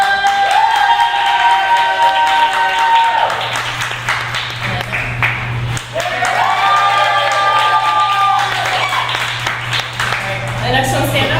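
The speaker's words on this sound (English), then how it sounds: "So I'm gonna do the loudest cheer." A large crowd cheers and shouts loudly and continuously, with whoops and clapping, while rising and falling tonal sounds and a low hum run underneath.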